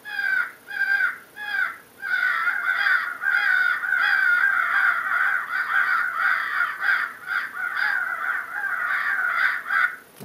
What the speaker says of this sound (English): This is a crow fight.